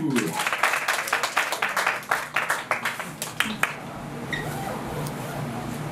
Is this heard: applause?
yes